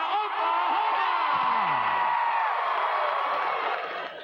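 A rodeo crowd in Houston cheering and whooping, a broad sustained roar of many voices with whistles and yells rising and holding steady, loud and close before tapering slightly at the end.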